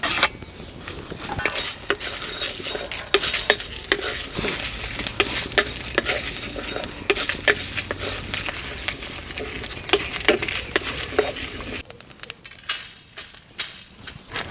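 Spices tossed one after another in a dry kadai for a restaurant-style kadai veg masala, a busy crackling patter with constant scraping and stirring close by, loud and dense throughout, thinning out near the end.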